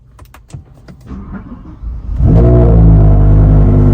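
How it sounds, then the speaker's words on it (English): A few clicks and a brief cranking whir as the start button is pressed, then a 2007-2010 BMW M6 engine catches and settles into a loud, steady low rumble close by. "Now I press the brakes"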